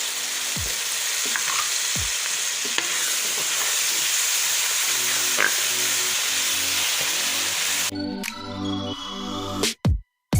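Tomato paste stirred and fried in a pan of aloo matar curry, a steady close sizzle with spoon scrapes throughout, ending in a few louder clatters of the spoon against the pan.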